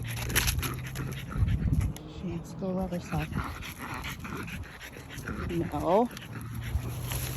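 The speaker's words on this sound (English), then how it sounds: "Crazy dog." A dog pants and gives high, whining whimpers in short bursts near the microphone, with someone talking over it throughout.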